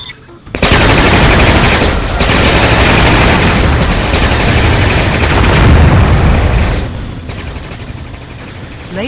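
A laser satellite strike fires in the Warzone 2100 strategy game, a loud, sustained blast of booming, crackling roar that starts abruptly and rumbles for several seconds before easing off.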